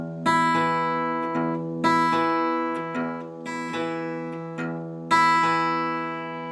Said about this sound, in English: So you're going to be plucking it in between the thumb plucks.